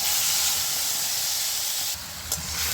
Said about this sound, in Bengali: এবার আমি বেটে রাখা টমেটোটা দিয়ে দিচ্ছি।